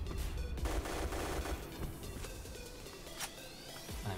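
Rapid bursts of Black Squad video game gunfire in a demolition match, with sharp automatic rattles and single shots popping in quick succession.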